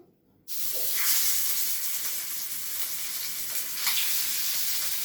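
Pieces of fish dropped into hot oil set off a sudden loud sizzle that keeps up as a steady, bright frying hiss, with small crackling bursts along the way.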